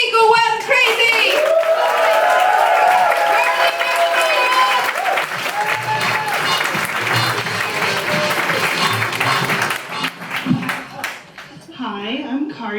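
Comedy club audience at a Bright Club show bursts into loud, sustained applause with cheering and whoops, a dense wall of clapping lasting over ten seconds before thinning out near the end.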